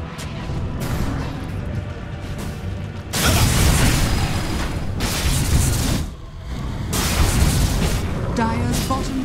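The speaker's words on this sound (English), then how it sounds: "Dire's bottom tower has fallen." Booming crashes from a Dota 2 match at The International 10 as a bottom tower is destroyed, with loud bursts of rumbling impact near 3, 5 and 7 seconds over continuous game noise and voice.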